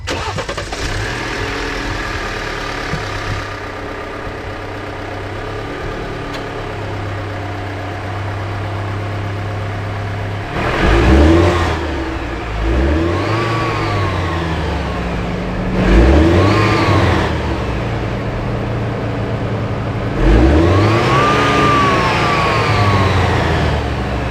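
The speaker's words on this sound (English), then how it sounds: "start this car up for you, and see if there's a noticeable sound difference" An Alfa Romeo Stelvio engine fitted with a K&N air filter cranks and catches, idles steadily, then revs up three times in rising and falling swells, close and loud with no talking.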